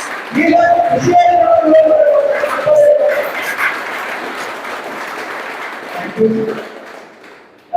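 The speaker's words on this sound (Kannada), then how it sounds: "ಚಪ್ಪಾಳೆ ಮಾಡ್ತಾರೆ." An audience at an organic farming training event on a Dandeli trip breaks into loud, close applause after a brief voice. The clapping holds as a dense wash for several seconds and then fades.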